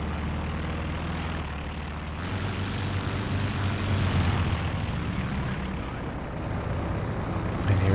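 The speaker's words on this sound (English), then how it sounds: "And here we go, recon plane up." Recon plane droning overhead in Company of Heroes 2, a steady loud propeller engine rumble that swells slightly mid-clip over constant battle ambience, with no voices.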